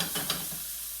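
Chicken sizzles in a frying pan for chicken pomodoro, a steady close hiss with a couple of brief stirring scrapes and no voices.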